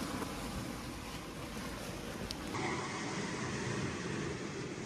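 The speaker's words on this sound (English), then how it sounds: "I cannot even hear myself because of the sound of the waves" Sea waves and wind form a loud, continuous broadband roar along a coast between Italy and Albania, steady with no distinct breaks and no talking.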